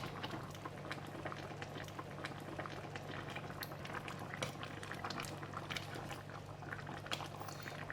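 Fish head curry with Spanish mackerel bubbles steadily in a pot, a soft continuous simmer of small popping bubbles heard up close without any talk.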